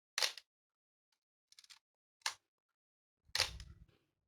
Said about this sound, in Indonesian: Coba di kokang jepret beberapa kali, masih normal atau enggak.